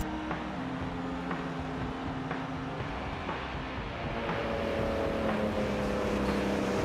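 Porsche GT2 RS race car engine from 2018 in Forza 7 droning steadily at a near-constant pitch, with shifting tones as the race gets under way.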